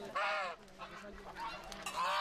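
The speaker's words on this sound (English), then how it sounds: "At first, the grove resonates with goose honks." Geese honk loudly and close by, a few brassy calls spaced out over a couple of seconds.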